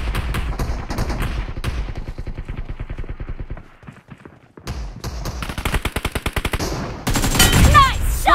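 Bursts of rapid automatic gunfire in the PUBG Mobile game, played on an iPhone 11. Loud volleys fall silent briefly midway, then resume and end in a heavier, denser burst of shots.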